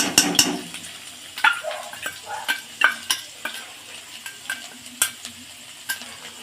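Chopped ginger and garlic fry in a hot wok, a steady sizzle broken by sharp clinks and scrapes of a stirring utensil against the metal, close and fairly loud with no voices.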